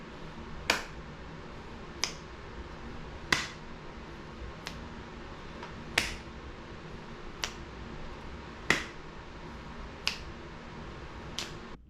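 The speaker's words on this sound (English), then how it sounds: "I want you to clap on beat 1 and snap on beat 3" Sharp, quiet claps and finger snaps land on steady conductor's beats, about nine crisp hits spaced over twelve seconds, in an otherwise hushed room with no talking.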